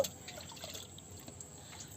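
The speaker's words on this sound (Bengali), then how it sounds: "আমরা পানি কমানোর চেষ্টা করছি" Water being bailed out of a fishing boat makes faint, brief splashing and dripping close by, with no voices.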